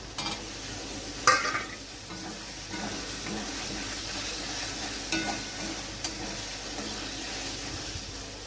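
Soybeans stirred into fried spice paste with a spatula in a pan, giving a continuous close sizzle with scraping strokes and a few sharper clanks, no voices.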